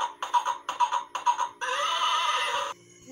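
A toy ride-on horse or donkey plays an electronic neigh: a quick rhythmic burst of four bleating pulses, then one sustained whinny, loud and close with no talk over it.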